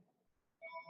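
A phone ringtone cuts in during a tabletop Dungeons & Dragons campaign session: bright, repeating electronic tones start abruptly and ring loudly over faint room noise for the last moments.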